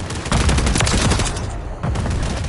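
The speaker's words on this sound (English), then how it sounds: "Sorry, I was shooting at that guy over there." Call of Duty MW3 gunfire rattles out in dense, rapid bursts, loud and close, with a brief dip in the shooting before another volley resumes.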